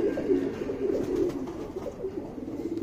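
A Buri pigeon coos in low, rolling, repeated phrases, close and fairly loud against a quiet background with no talking.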